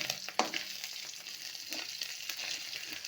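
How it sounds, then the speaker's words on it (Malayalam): Steady crackling sizzle of anchovies frying in a pan, with a sharp clink near the start and soft scraping throughout. "ഞാൻ ബാക്കിയുള്ള നെത്തോലിയും കൂടെ വറുത്തു"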